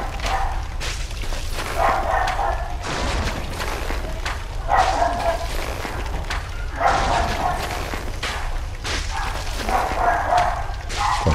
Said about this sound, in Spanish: ¿Qué le pasa aquí a los perros?